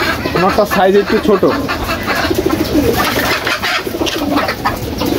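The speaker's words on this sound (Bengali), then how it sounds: "এটা একটা বাদামি চোখের কবুতর" A brown-eyed pigeon among a home flock of pigeons gives repeated soft, low cooing close by, partly under someone talking over it.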